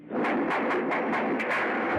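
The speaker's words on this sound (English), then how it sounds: "I hear gunfire." Rapid bursts of gunfire during the 1993 Waco siege, about eight sharp reports in quick rhythmic succession over a loud, dense rumbling background, with no talk.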